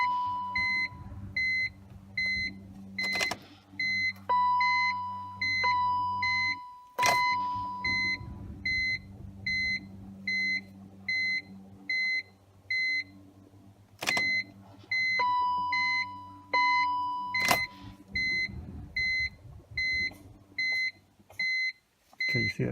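BMW E46 M3 with SMG transmission, key cycled so the hydraulic pump runs: a steady electric pump whine under repeated chime beeps from the dash, cutting out and restarting a few times, close and fairly loud, no talking.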